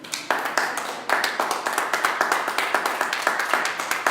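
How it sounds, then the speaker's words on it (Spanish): A church congregation claps steadily together, dense rhythmic applause filling the room at close range, continuing without pause and without voices on top. "Denle un aplauso al Señor."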